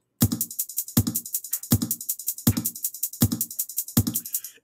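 Five evenly spaced kick drum beats, each a deep booming thump with a short tail, marking steady counts in a musical groove; closer hits with faint cymbal-like shimmer ringing continuously above, no voices.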